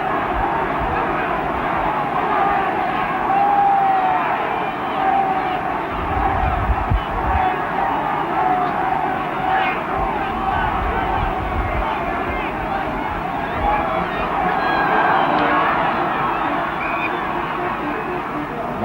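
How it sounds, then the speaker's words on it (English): A rugby stadium crowd roars in a steady, broad wash of cheering for the Springboks during a New Zealand versus South Africa test in Christchurch, with a commentator talking over the distant, sustained noise. "Crowd sensing an upset now, giving the Springboks plenty of encouragement"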